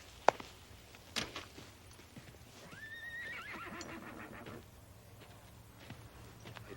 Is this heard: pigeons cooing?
no